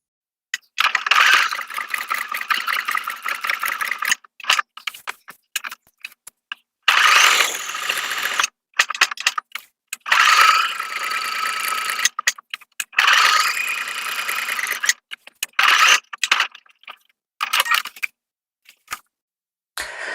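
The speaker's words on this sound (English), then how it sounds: "Now I'm going to go and sew these on." A sewing machine stitches straps onto a denim bag in several runs of rapid, close whirring, each lasting a few seconds and separated by short quiet pauses.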